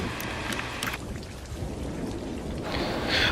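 Steady rain hisses and patters all around, a dense continuous wash of drops with a low rumbling undertone, fairly loud and without voices.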